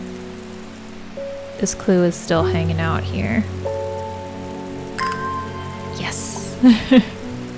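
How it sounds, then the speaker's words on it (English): Steady rain patters in Strange Horticulture, a soft, even hiss running under a speaking voice, while brief tones and clicks from the game rise and fade over it. "I love the rain sounds."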